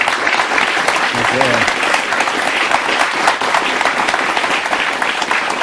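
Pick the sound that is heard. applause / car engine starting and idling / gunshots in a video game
applause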